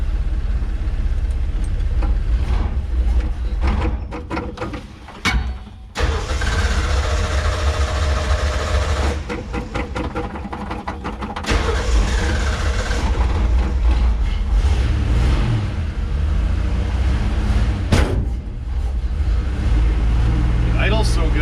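A 1966 Ford Bronco engine idles in a garage with a steady low rumble, broken by occasional clunks and bursts of louder noise, while people talk over it.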